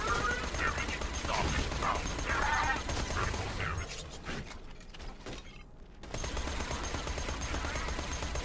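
Rapid SMG gunfire from Borderlands 2 rattles in bursts under busy game noise and mechanical clatter, fading briefly to near silence before the shooting and ambience resume.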